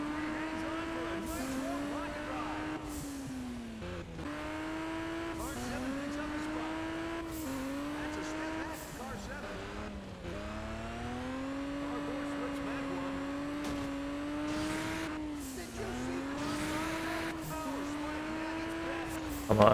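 Race cars in Juiced 2: Hot Import Nights roar through a lap, engine pitch rising and dropping with each gear shift, brief tire squeals in between, steady and loud throughout, with a voice talking over the top.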